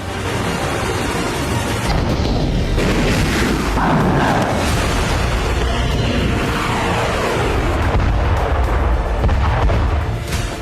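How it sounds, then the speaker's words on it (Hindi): Continuous heavy booming and roaring of multiple missile launcher rocket launches and explosions, loud and sustained, with overlapping blasts rumbling throughout. "चीनी सेना एलएसी के करीब तिब्बत में मिसाइल धमाके से बारूदी जलजला ला रही है।"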